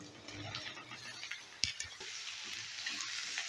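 Cut eggplant drops into a pan of fried garlic and onion, giving a close, steady sizzle with a sharp clatter midway and light stirring noises.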